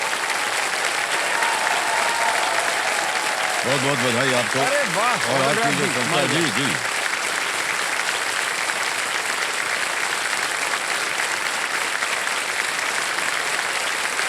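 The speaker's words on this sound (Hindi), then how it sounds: "तालियां बज जाएं इनके नाम" Studio audience applause on the KBC Season 17 quiz show, a steady broad wash of clapping filling the whole stretch, with the host and a contestant talking over it.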